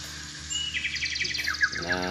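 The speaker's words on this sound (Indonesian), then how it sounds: "Nah, suara burung ya." Synthetic birdsong from a multi pad on a Yamaha PSR SX700/900 arranger keyboard: a brief run of bright, rapid chirps and trills, close and clear, with no other sound behind it.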